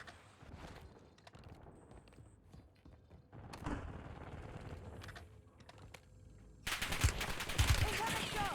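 Gunfire rings out in Call of Duty on Rebirth Island: scattered distant shots and mechanical clicks, then a louder, denser burst of rapid fire near the end, with a voice talking faintly in between.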